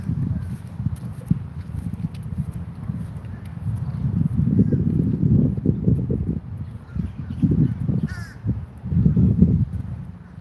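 Crows cawing outdoors on a hot day near a backboard court, harsh calls over a steady rumbling background, with footsteps and faint voices mixed in.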